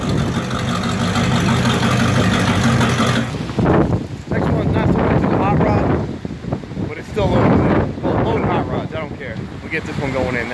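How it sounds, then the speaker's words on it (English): Strong wind buffets the microphone outdoors while hot rods are loaded into a trailer, loud, gusty rumbling that drops briefly then returns, with someone talking over it. "Man, it is windy out here."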